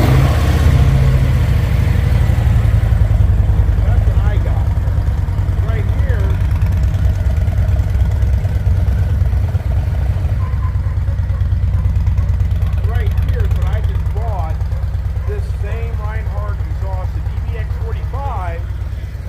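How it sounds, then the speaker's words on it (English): A motorcycle exhaust rumbles at idle with a deep, steady low throb, loud and close, while someone talks over it throughout. "That's just this exhaust."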